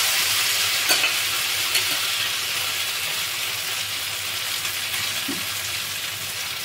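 Cauliflower fries in a pan of oil with a steady, loud, dense sizzle that runs unbroken throughout, with a few faint clinks and a stirring sound under it. No one speaks.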